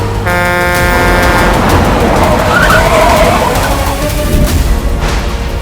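A car races past at speed with a blaring horn and tyres skidding, loud and continuous throughout, with layered honks and screeching over a roaring engine.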